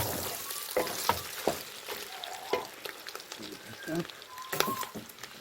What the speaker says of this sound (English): Guys, our pork is frying.